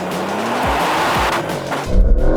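A new Porsche 911 launches hard off the line, its engine roaring loud and close with rising revs through a quick gear change, ending in a heavy low rumble.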